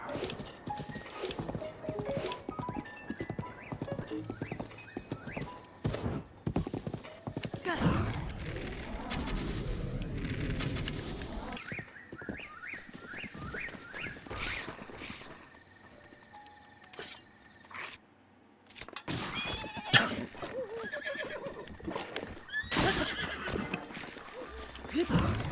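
A horse in the video game Breath of the Wild gallops with rapid, rhythmic hoofbeats and lets out several whinnies, mixed with metallic clinks and game effects, fairly close and prominent throughout.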